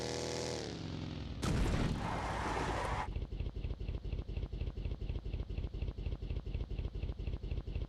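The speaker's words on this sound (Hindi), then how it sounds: "फिर उसके बाद इधर मेरे पे कुछ गन शॉट्स आते हैं" Gunfire in the video game PUBG Lite, starting with a brief noisy rush and then turning into a rapid, evenly spaced train of sharp shots that keeps up steadily to the end.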